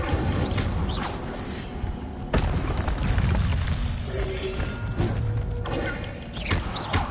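The Incendio fire spell is cast in Hogwarts Legacy, heard as a loud burst of whooshing, thudding game effects that layer with mechanical clatter and booms, alongside a voice.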